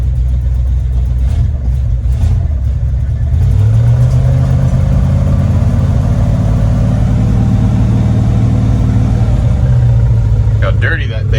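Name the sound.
1989 Dodge service truck engine running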